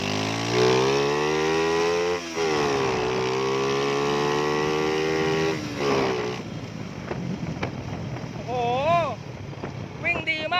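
A carbureted motorcycle engine, just retuned, revs hard and climbs in pitch, holds a steady high drone, then drops and blips through several quick throttle rises, loud and close with no stumbling.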